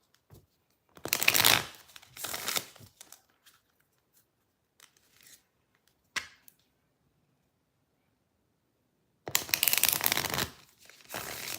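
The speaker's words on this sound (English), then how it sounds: "I'm just shuffling." Tarot cards are shuffled in a quiet room in three separate bursts of crisp riffling and flapping, close and clear, each separated by near silence and small taps.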